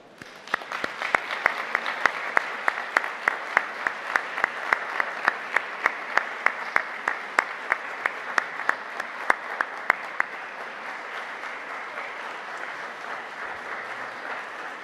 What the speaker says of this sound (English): applaud them for everything they've done for you